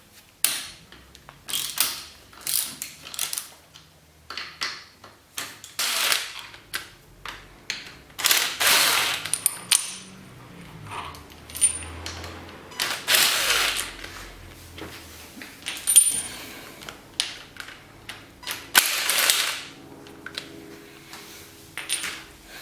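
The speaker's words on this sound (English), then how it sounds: "I'm taking the bars off." Handlebars come off a dirt bike under the top triple clamp. Close, irregular metallic clicks, ratcheting and clanks of tools and bolts repeat throughout, loud and alone, with short pauses between bursts.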